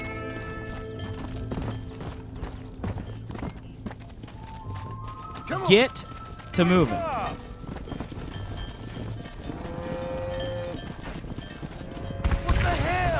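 Herd of cattle stampeding in the Red Dead Redemption video game, a rolling patter of hooves with whistles and swooping game effects layered in, while someone talks over it.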